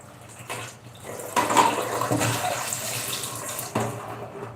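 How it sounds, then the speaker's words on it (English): Water runs from a kitchen sink tap while a pan is washed, a steady splashing stream that swells and shifts as the pan moves under it, close by with no talk. "Let me just clean this pan,"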